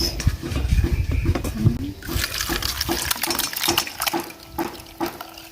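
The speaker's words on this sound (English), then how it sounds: "So what you will do is just to sieve it, take all of that water out." Water soaked for three days with coconut husk pours through a sieve, splashing and trickling close by at first, then breaking into patters and drips.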